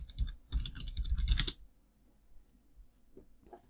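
Typing on a computer keyboard, a quick burst of close, loud key clicks for about a second and a half, then near silence with a couple of faint clicks near the end.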